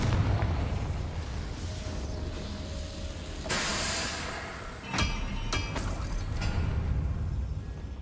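The Confringo blasting spell in Hogwarts Legacy goes off as several loud, sharp explosive bursts over a rumbling low background, with a few cracks landing in quick succession in the second half.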